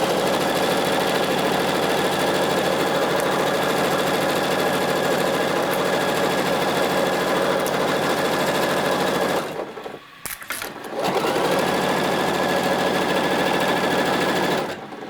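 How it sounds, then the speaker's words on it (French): A sewing machine runs steadily and loudly, stitching a French seam along a blouse sleeve 1 cm from the edge. It stops briefly for a pause and backstitch, then resumes its continuous whir to the end. "Et je passe maintenant à la machine pour piquer à 1 cm du bord sa première couture des coutures anglaises"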